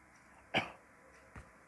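Two short coughs, the first sharper and louder, the second softer, in a quiet room.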